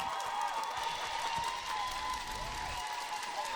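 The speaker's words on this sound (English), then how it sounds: "You can hear the crowd in the background." A crowd applauds at a figure skating competition, steady clapping spread across an arena, heard at a distance and fairly faint beneath a sustained tonal hum.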